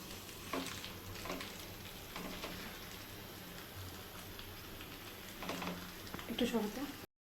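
Fish and vegetables fry in oil on a banana leaf in a Bengali fish chorchori, giving a steady low sizzle and crackle with a few brief louder spatters and stirring bursts, while a voice talks over it.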